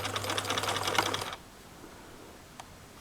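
A domestic sewing machine back stitches through jumpsuit fabric, a steady close whir of rapid needle strokes for just over a second before it stops, leaving quiet room tone with one faint click.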